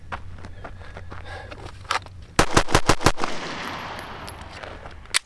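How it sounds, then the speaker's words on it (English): Rifle fire at a shooting range: a few scattered shots, then a quick run of five or six sharp, loud cracks in rapid succession, followed by echoing range ambience. "Finally, get through 20 rounds with some shitball ammo"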